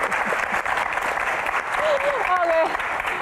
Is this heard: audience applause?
yes